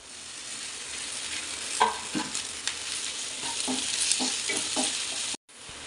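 Coconut pieces sauté in oil with ginger garlic paste for a chicken dish, a steady bright sizzle with a few spatula scrapes and stirs, close and continuous, with no talking.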